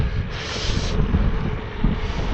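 Wind blows steadily against the microphone, a loud low rumble with gusty swells, heard outdoors on a long mountain bike ride in Brittany-style countryside near Grenoble, with no voices.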